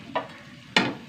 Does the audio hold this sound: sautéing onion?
yes